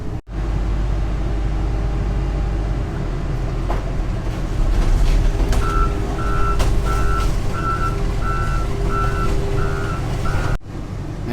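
A truck reversing across scrapyard scales, its backup alarm beeping in a steady, evenly spaced run over a loud, continuous engine rumble, with no talking.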